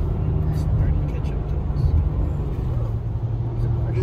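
A car passes close by on a snowy mountain road, a loud low rumble of engine and tire noise that swells and fades, heard from beside the road.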